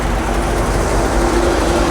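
A Weichai 190 hp four-cylinder turbocharged engine drives a combine harvester during a barley harvest, giving a loud, steady, broadband mechanical roar with a low hum that stays constant throughout.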